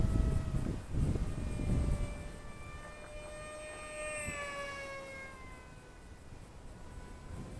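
A small LDARC Tiny Wing 450X RC flying wing running a new ESC and receiver with no gyro, its electric motor whining steadily overhead as pitch rises and falls through a loop, moderately loud and without talk.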